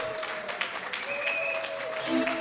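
A ceremony audience claps at an elevation event honoring a new grand knight, a steady wash of applause running throughout, with a faint sustained tone and a brief voice near the end.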